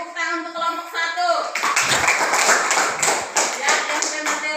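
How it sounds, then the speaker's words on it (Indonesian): A classroom group claps in a burst of applause, fairly close and lively, following a brief spoken voice at the start. "tepuk tangan untuk kelompok 1"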